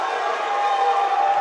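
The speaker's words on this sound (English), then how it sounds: "And the Huntsville crowd is hyped." A high school basketball crowd of Huntsville Hornets fans roars with sustained cheering in a gym after an and-one shot, loud and steady, with a voice faintly mixed in.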